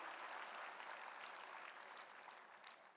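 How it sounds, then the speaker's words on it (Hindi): A large audience at the World Food India 2025 event at Bharat Mandapam, New Delhi, claps in a dense, sustained round of applause that tapers slightly toward the end, heard from a distance. "एक बार जोरदार तालियां"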